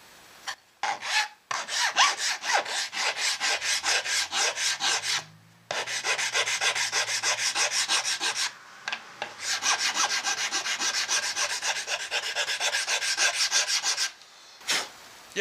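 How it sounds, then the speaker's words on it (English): A hand file rasps in long, steady rubbing strokes across a maple wood pickup ring for a guitar build, loud and close, with brief pauses between runs of strokes and no talking. "Maybe try a file."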